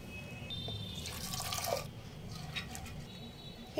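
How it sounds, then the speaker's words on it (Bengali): Water poured into chana dal lentils with a bay leaf and turmeric, ready for boiling in a pressure cooker: a faint, splashy trickle with a few louder gurgles and drips over a low background hum. "সিদ্ধ হওয়ার মতো আন্দাজ মতো জল দিয়ে দেব।"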